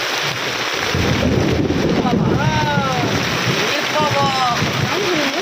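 Heavy rain pours in a dense, continuous roar with gusty, rumbling undertones, while voices speak intermittently over the downpour.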